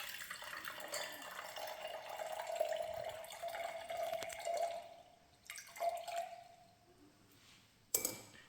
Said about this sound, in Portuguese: Vamos pegar 2 dedos de água num copo.